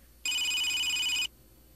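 A telephone rings once in a room, a single bright, electronic ring about one second long that starts and stops abruptly against near silence.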